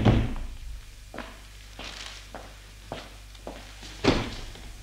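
Door opening in a Hindi radio play, a few soft thuds and knocks spaced across the moment with a heavier thump near the end, over a low steady hum, no voices.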